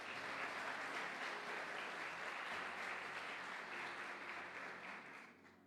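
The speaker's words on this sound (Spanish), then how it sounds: "Denle un aplauso a nuestro buen Dios." Church congregation applauding during a sermon, a dense, steady wash of clapping from a crowd, heard from some distance, that slowly fades toward the end.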